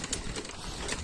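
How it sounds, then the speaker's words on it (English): A pigeon-like bird flying around close by, with a brief flurry of wing flaps and soft cooing over a busy outdoor background lasting about a second. "What a crazy bird."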